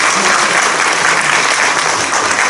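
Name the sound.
audience applause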